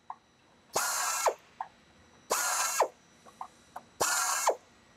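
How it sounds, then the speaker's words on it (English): A FlexArm pneumatic arm chamfers a hole in three loud, whirring bursts of about half a second each, with brief quiet gaps and small clicks between them. "So you can put a nice chamfer on the hole."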